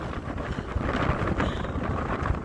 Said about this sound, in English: The wind is still blowing me over even with a heavy pack on